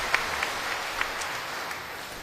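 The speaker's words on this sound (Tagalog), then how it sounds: "bigyan ng malakas na papugay at palakpak ang ating pong mahal na pong Jesus Nazareno" A church congregation applauds for the image of Jesus Nazareno during a homily, a soft, steady patter of many hands heard from a distance, with a few sharper claps standing out.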